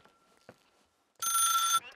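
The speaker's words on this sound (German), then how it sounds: "Warum klingelt hier ein Telefon?" Telephone ringing in the video game The Suicide of Rachel Foster: a single loud, close electric bell burst of about half a second, preceded by faint murmurs and a short tone.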